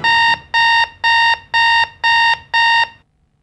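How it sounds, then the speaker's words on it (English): An alarm bell rings in six even, loud electronic bursts with short gaps between them, then stops, leaving near silence. "when the alarm bell rings"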